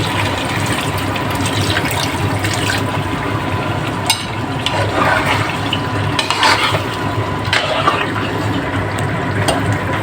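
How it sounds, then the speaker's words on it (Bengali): Water being poured into a pot of mutton curry (goat meat) during home cooking, a steady splashing and stirring noise at close range with no talk. "এখন এর মধ্যে জল অ্যাড করে দেবো সামান্য, খুব বেশি পরিমাণ জল দেব না"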